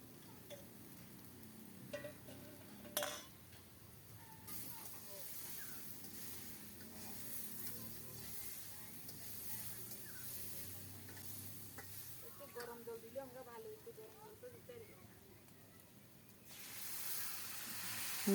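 Young jackfruit and fried potatoes sautéing with spices in a pan, a soft continuous sizzle with occasional stirring scrapes and a louder burst of frying hiss toward the end, fairly quiet and without talk.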